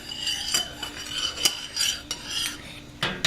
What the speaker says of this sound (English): take it off the burner, keep stirring it